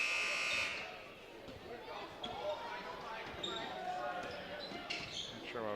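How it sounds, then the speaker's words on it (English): A buzzer sounds loud in a basketball gym during a boys' high school game, a sustained tone at the start that quickly fades into crowd chatter, squeaking shoes and ball bounces, with play-by-play commentary running over it. "Not sure why we had the buzzer go off there"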